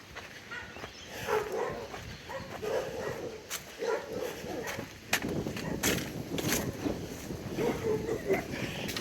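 Dogs bark and yip from some distance on an outdoor walk up Mt Biondello in Gladstone, Queensland, repeated calls over steady ambient noise and faint talk.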